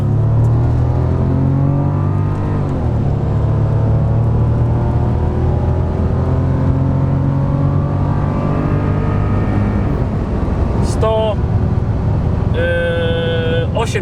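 A used Bentley accelerates hard on an unrestricted road in Dubai, the engine note climbing steadily under loud wind and road roar, with brief tonal beeps near the end.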